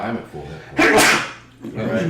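One loud, sharp human sneeze bursts out nearby in the middle of a tabletop role-playing game session, with people talking before and after it.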